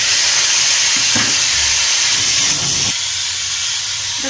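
Taro pieces dropped into a hot pan with fried hog plums, raising a loud, hissing, steamy sizzle that swells through the middle and then settles to a quieter fry, with no voices.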